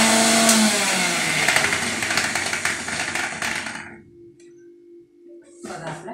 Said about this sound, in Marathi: आणि हे मिक्सरमध्ये मी वाटून घेते